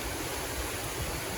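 Steady broadband rush of a waterfall flowing nearby beside a stream at Chandler Mill, a constant even wash of falling water with no pauses, filling the whole clip at moderate level.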